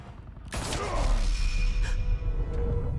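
Gunfire in Batman: The Enemy Within, one sharp loud shot cracking out after a quiet moment, followed by a swooshing tail and a couple of fainter hits over a low rumbling game backdrop.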